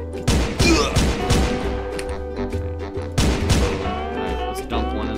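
Gunshots ring out in the game SpongeGlock SquarePants: loud, sharp bursts of fire in two clusters a few seconds apart, with ringing echoes between them.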